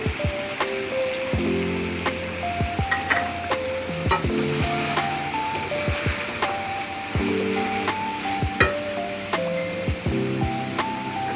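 Onions going into hot masala with chicken, garlic and ginger for a chicken curry, sizzling steadily with scraping stirs and clinks of a utensil against the pan, moderately close, with no talking.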